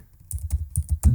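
Rapid keystrokes on a computer keyboard, about seven crisp clicks in quick uneven rhythm, close and clear with no talking.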